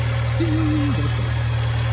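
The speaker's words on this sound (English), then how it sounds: "we have just a little exhaust rattle, but other than that, things are warming up" An Acura TL engine idling as it warms up, a steady low hum with a slight exhaust rattle, close and continuous, with a brief tonal whine partway through.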